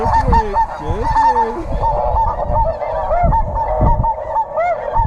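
Snow geese honk repeatedly in a loud, overlapping chorus during a hunt in Alberta, their calls continuous and close throughout with no talk.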